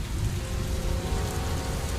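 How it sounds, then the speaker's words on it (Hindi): Steady light drizzle falling continuously around the Delhi area, a dense even patter with no gaps, heard alone without voices. "दिल्ली ही नहीं, उसके आसपास के इलाकों में तीसरे दिन बूंदाबांदी जारी रही।"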